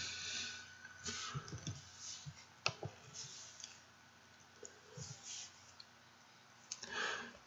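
A computer mouse gives soft, sparse clicks on a Save button, faint taps with quiet gaps between them and low background noise.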